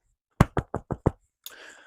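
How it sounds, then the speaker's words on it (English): Five quick knuckle knocks on a hard surface, close and evenly spaced, followed by a brief rustle. "I'm gonna knock on something."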